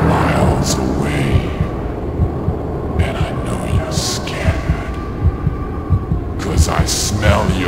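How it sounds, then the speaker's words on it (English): A heartbeat sound effect thumps in a steady throbbing rhythm, low and heavy, layered over a dark droning hum in an eerie warlock-themed night scene. "I hear your heartbeat from miles away."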